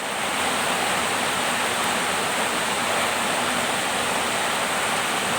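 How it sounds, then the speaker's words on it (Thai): Heavy rain pours down while water floods into an elephant shelter, making a loud, continuous, hissing rush with no pauses, close by and alone. "น้ำไหลเข้าในโรงเลี้ยงช้างแล้วนี่ ฝนตกหนักมากนะคะนี่"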